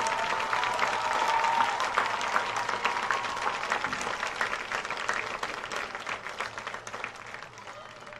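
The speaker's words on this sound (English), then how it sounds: "Let's have a round of applause for our fifth row graduates." Sustained applause from a crowd at the Apollo-Ridge 2023 high school graduation, dense steady clapping with a faint voice early on, slowly fading toward the end.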